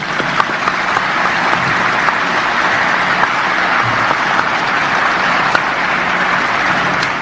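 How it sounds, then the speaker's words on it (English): Round of applause for the Transcom Joint Color Guard at a U.S. Transportation Command change of command ceremony, a dense, steady wash of many hands clapping from a large audience, loud and sustained throughout with no speech over it. "please join me in a round of applause for all of them"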